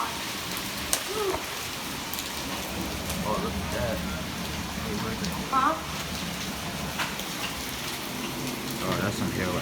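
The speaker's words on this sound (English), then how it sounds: "The hail is on." Penny-size hail and rain come down during a severe warned thunderstorm with 40 mph wind, a dense steady patter drumming close by, with a few sharper knocks and people talking now and then.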